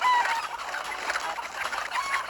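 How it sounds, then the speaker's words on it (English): A flock of chickens in Breath of Fire 3 clucks in a dense, steady chatter throughout, close and loud, with no voices. "Everyone after the chickens!"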